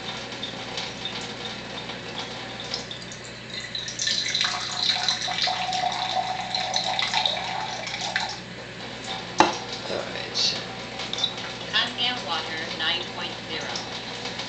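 Water streams steadily from an Enagic Kangen water ionizer running at pH 8.5, a continuous splashing flow into a container, with its sound shifting as the flow is eased, under someone talking.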